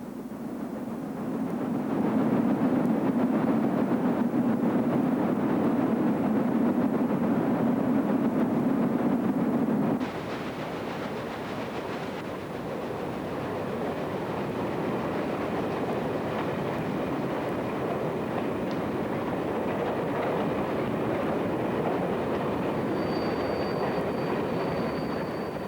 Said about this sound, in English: 1210 rolls a coal drag along the James River near Richmond.